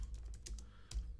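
Typing on a computer keyboard while entering data into genealogy software, a quick run of close, crisp key clicks with a firmer tap near the end, heard alone.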